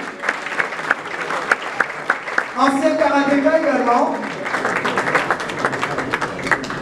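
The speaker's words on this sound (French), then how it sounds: "On applaudit très fort, mesdames et messieurs, Chairman." An audience at an awards ceremony for diaspora and Kinshasa artists applauds loudly, with crowd noise swelling mid-way as a voice calls out over the clapping, and announcer speech running before and after.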